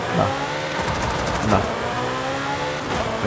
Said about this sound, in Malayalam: ആക്സിലേറ്റർ കൊടുത്തോണ്ടിരുന്ന ഫസ്റ്റ് ഗിയറിൽ തന്നെ ഇങ്ങനെ പൊക്കിക്കൊണ്ടിരിക്കും കേട്ടോ. നമ്മൾ ഗിയർ ഇവിടെ ഷിഫ്റ്റ് ചെയ്ത് കൊടുക്കണം.